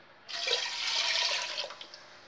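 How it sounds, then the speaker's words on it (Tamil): Water poured from a cup into a pot of rice and split moong dal for pongal, a steady close splashing pour lasting about two seconds, heard alone. "2 கப்பு தண்ணி விட்டுக்குருவோம்."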